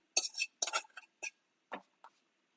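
Scrambled egg stuck in a pan gets scraped by a utensil, a handful of short, sharp metallic scrapes and clinks in uneven strokes, close and clear against a quiet background.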